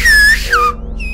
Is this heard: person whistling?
yes